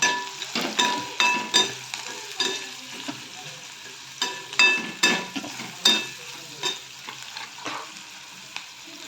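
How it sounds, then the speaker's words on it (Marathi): Chopped onion sizzles steadily in tempering oil in a pan while a utensil stirs and scrapes in repeated bursts, close and fairly loud, with no talking. "फोडणी टाकणार आहोत बघा कांदा लाल झाला"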